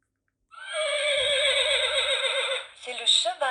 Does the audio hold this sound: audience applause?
no